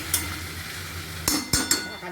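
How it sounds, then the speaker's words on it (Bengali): Spices are stirred and sautéed in a pan over a high gas flame with a small spoon. After a faint sizzle, the spoon clinks sharply against the pan in three quick metallic taps, close by. "ছোটো চামচ দিয়ে এটা কষতে থাকবো"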